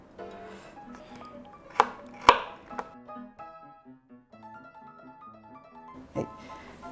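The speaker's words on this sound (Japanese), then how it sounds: "ニンニクを粗みじんに切ります。" A knife coarsely chops small garlic cloves on a cutting board, a few sharp thuds and taps close by, with a soft background tone running between the chops.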